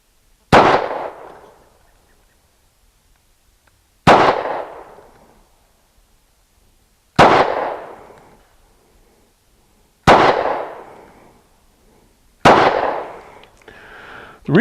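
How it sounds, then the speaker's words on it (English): A Ruger LC9 pistol firing 115-grain 9mm full metal jacket rounds outdoors: five loud, sharp single shots spaced about three seconds apart, each trailing off with a short decaying echo. "I'm shooting a 115 grain full metal jacket 9mm Ruger round"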